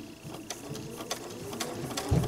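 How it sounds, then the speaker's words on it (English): A sewing machine stitches in the ditch with an edge joining foot on a heavy cork or vinyl zipper bag, giving a steady run of quick mechanical clicks with a soft thump at the end. "I'm going to just put that little bar right in the ditch, and I'm going to start to sew"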